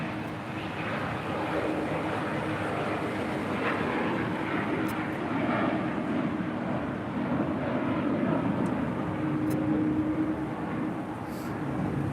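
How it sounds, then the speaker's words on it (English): A Bombardier Global 5000 business jet departs from LAX, its engine rumble a steady, moderately loud roar heard from a distance, with a few faint, brief higher sounds on top. "That Bombardier Global 5000 is departing to Los Cabos."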